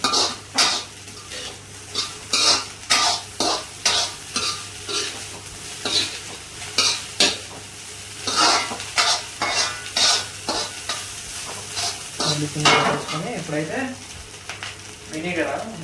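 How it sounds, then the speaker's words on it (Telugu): Vegetable fried rice is tossed in a pan on high heat, with rhythmic metal scraping and clanks of a spatula over a continuous sizzle, close and loud, with a brief voice late on. "వేసేసుకున్నాక మళ్ళీ ఒకసారి కలుపుకోండి హైలో పెట్టుకోండి"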